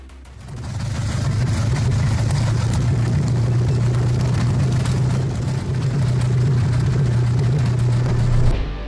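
A Ford GAA engine starts up and settles into a deep, steady low rumble, loud and close, running continuously until cutting off near the end.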